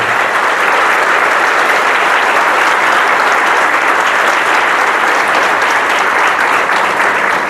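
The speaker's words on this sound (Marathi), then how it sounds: "एकदा जोरदार टाळ्या करून तुम्ही समाजाचं अनुमोदन द्या." Loud, sustained applause from a large devotional gathering at Shegaon, a thick, unbroken roar of clapping hands that stays strong and steady from start to finish.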